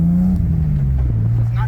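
BMW M3 with an S50 engine and 260,000 miles, revving as RPMs climb; a steady, loud engine drone under a person talking, pitch rising gradually.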